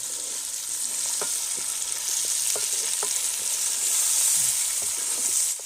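Loud, continuous sizzling of ginger and garlic frying in hot oil, with scattered light clicks of stirring throughout.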